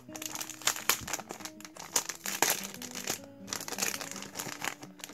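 Plastic wrapper crinkling steadily as it is pulled open from around a ball of yarn, close and continuous, with no talk.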